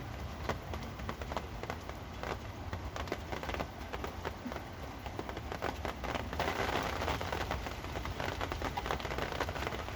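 Steady rain patters on an overhead awning in a constant, even hiss, with dense drops tapping throughout.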